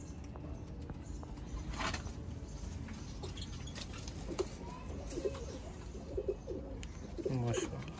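Pigeons kept for sale in Sialkot coo with soft, low, repeated calls that stay fairly faint against a steady background hum of the surroundings.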